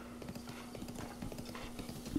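Horse hooves clip-clopping in The Legend of Zelda: Breath of the Wild as a ridden horse moves along, a steady run of soft repeated hoof taps at moderate distance over a constant low hum, with no talk.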